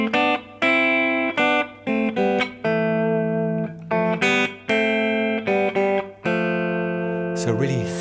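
Two electric guitar lines a third apart play a riff together, forming a thick, harmonized run of picked notes in a steady rhythm, loud and close, with a brief noisy scrape at the very end.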